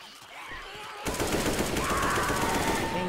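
Machine gun fire in the zombie shooter Left 4 Dead 2, a loud sustained rapid-fire rattle kicking in after a quieter second and hammering on steadily, close up.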